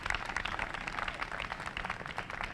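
Applause from an audience at a St. Louis press conference on funding for Better Family Life, a steady, moderately faint patter of clapping that fills the whole stretch without any talk over it.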